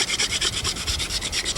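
A wooden hand drill spins against a wooden base in quick back-and-forth strokes, making a close, rhythmic raspy rubbing with about a dozen even pulses.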